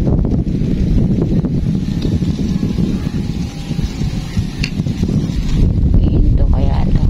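Steady wind roars and buffets across the microphone, loud and continuous, with faint voices and outdoor noise mixed in underneath.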